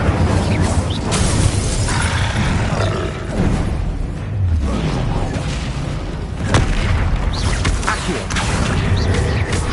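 Incendio fire spell cast in Hogwarts Legacy amid continuous combat effects, with loud booms, crackling bursts and mechanical clatter filling the scene, some brief sharper pops standing out.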